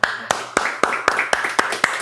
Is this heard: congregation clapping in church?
yes